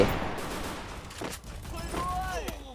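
Gunfire in the battle royale game Free Fire, a short burst of shots rattling over steady background noise, with a voice speaking around it in a ranked match.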